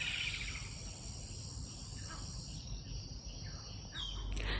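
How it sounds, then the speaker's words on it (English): Insects chirr steadily outdoors in Hoedspruit, South Africa, with a few faint bird calls scattered over the constant buzzing backdrop and a brief louder rustle near the end. "And the sound of the birds."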